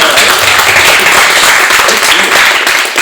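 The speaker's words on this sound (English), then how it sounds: "let's give him like a little applause for that" A short burst of audience applause at a live talk show: dense, even clapping from a small crowd, loud and close, running steadily for about three seconds.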